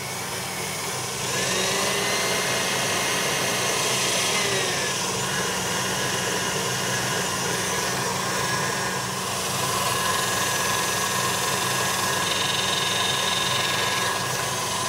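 An electric mixer whips egg whites for a meringue, a steady loud motorized whir with a slight shift in pitch partway through, running continuously with no talk.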